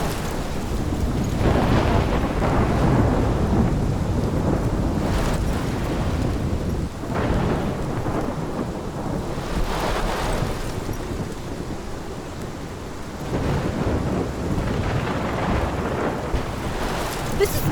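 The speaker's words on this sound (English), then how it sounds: "This is my storm." Thunderstorm with steady heavy rain in the video game Life is Strange, a dense continuous roar of downpour with low rolling thunder swelling at several points, loud and without speech.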